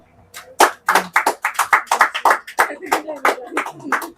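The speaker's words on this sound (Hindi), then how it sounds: "ताली मारो" A village maths class claps in a loud, rapid, uneven run of many claps, close by, with a few voices faintly underneath.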